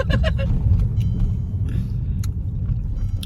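Inside a car driving along a road, a steady low road and engine rumble fills the cabin throughout, with a few faint clicks and rattles above it.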